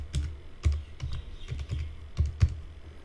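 Someone typing a password on a computer keyboard while installing GNOME extensions in Linux: a quick run of about a dozen close, crisp key clicks at an uneven pace, alone in a quiet room.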